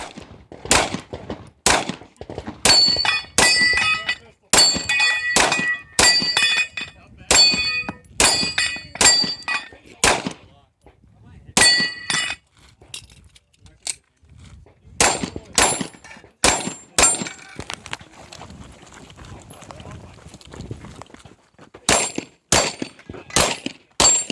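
Pistol shots ring out at a steel plate target course, each a sharp crack followed by a bright metallic clang, fired in quick bursts and clusters with short pauses between strings, loud and close.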